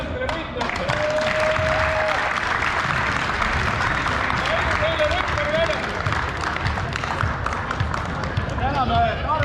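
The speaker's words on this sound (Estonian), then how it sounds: "Suur aplaus tänastele võitlejatele!" Applause for the players at a teachers' volleyball tournament in a gym, steady loud clapping from the crowd throughout, with whistles and voices mixed in beneath it.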